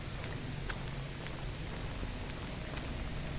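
Rain falls steadily in Hayfield village in the High Peak, a dense, even hiss of drops on hard surfaces that stays close and constant, with no talk.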